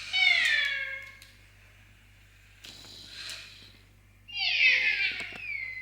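A Makeblock mTiny toy robot cat gives two clear electronic meows, one at the start and one near the end, each with a descending, harmonic synthetic tone, separated by a softer burst of noise in a quiet room.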